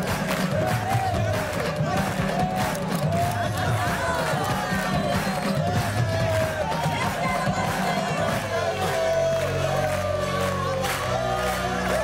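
Dense crowd of voices in a busy public gathering, loud and continuous, with shouts and cheering rising over the noise and a lower, steadier murmur taking over toward the end.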